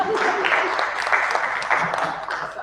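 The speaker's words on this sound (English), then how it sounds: "you can clap, that's all right." An audience claps together in a dense, steady burst of applause lasting a few seconds, fairly close and loud.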